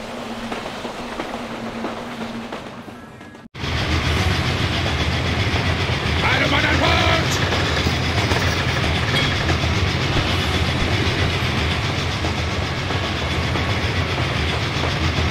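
A train runs along rails in The Legend of Spyro: A New Beginning, a steady loud rumble with faint clickety-clack that starts abruptly after a short quieter stretch and keeps rolling without a break.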